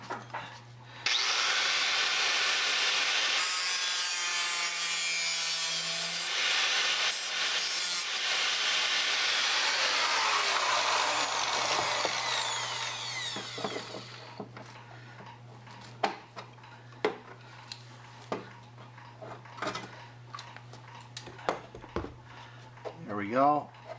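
Power cutter trimming a metal patch piece for a 2001 Chevy 2500HD truck body, a loud steady grinding whine for about twelve seconds that then stops, followed by scattered taps and handling clicks.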